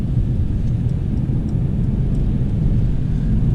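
A Mercedes with paddle shifters accelerates, its engine a steady, loud low rumble that holds unbroken throughout.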